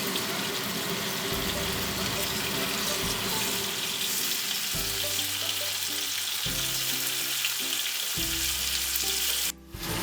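Chilli chicken roasting in a pan after being flipped, a dense, steady hissing sizzle lasting throughout, close and loud, over a low droning tonal background, with a brief dropout near the end.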